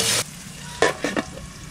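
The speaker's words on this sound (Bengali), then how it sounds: "ভাজা ভাজা করে নেব।" Potatoes fry with salt and turmeric in mustard oil with bay leaf and cumin, a brief loud burst of sizzle followed by a few short stirring scrapes against the pan.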